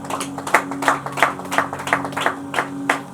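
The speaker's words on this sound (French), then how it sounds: "C'est bien, acclamez pour vous-même." Church congregation applauding during a worship service in Ngaliema, with a steady run of claps swelling into regular louder bursts over a constant low hum.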